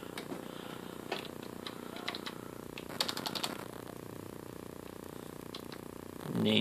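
Keys clatter on the keyboard attached to a Sony MegaStorage CDP-CX355 300-disc CD changer, with scattered soft clicks and a short burst of taps over a steady hiss, then a rising rumble at the end.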